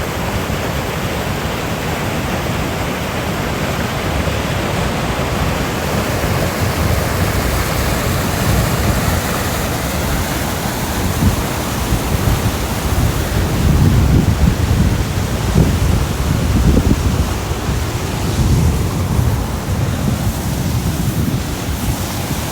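Water pours over the Old Mill dam in Etienne Brule Park, a loud, continuous roaring rush heard from close by that swells and surges slightly without pause.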